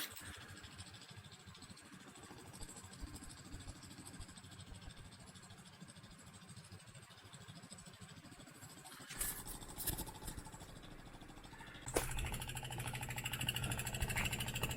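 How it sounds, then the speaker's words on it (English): Fuel polishing pump on a Carver boat pulling fuel through a Racor filter, giving a steady mechanical hum and buzz that changes pitch and gets louder partway through. "So we're pulling fuel through the racor filter."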